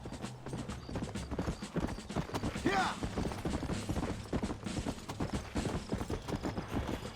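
Rapid hoofbeats of a galloping horse in Red Dead Redemption clatter in a quick, steady rhythm close by, with a brief whinny partway through and faint voice underneath.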